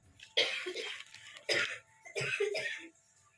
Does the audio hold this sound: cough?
yes